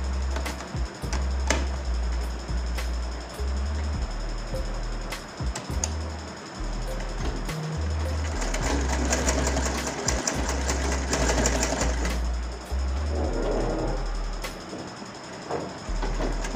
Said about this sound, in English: so I'll just start sewing mine here.